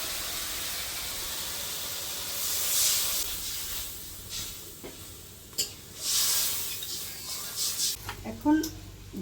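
Hot water splashes into spice paste frying in oil for a mango and shol fish curry, setting off a loud, hissing sizzle that surges in bursts over several seconds, with faint voices.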